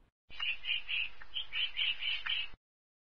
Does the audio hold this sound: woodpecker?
yes